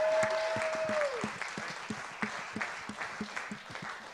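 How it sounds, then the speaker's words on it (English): Audience applause at a live charity auction gala, a broad sustained burst of clapping that starts full and gradually breaks into scattered individual claps, with a brief tonal whistle-like sound near the start. "Can we get a round of applause for Pat again, please?"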